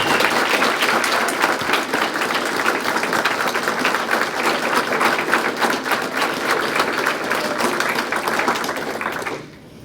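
Sustained applause from an audience at a community foundation's spring grant celebration, a dense, loud wash of many hands clapping steadily for nearly ten seconds before cutting off abruptly at the end.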